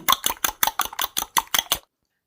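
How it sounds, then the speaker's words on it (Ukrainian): A fork beats eggs in a bowl for a sweet yeast bun dough, about ten quick, even clinking strokes close by, then silence. "яйця розколочую вилку"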